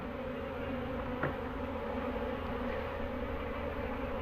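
Honey bees from a failed-queen colony being shaken out make a dense, steady buzzing drone, close and continuous, with a brief bump partway through.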